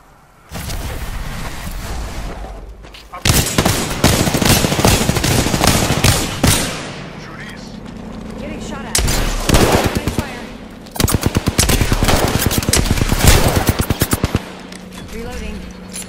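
Bursts of rapid automatic gunfire in the battle-royale game Apex Legends, loud and close, in several long volleys separated by short pauses, with game noise and a voice faintly underneath.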